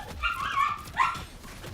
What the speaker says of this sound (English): Sorry guys about the dog.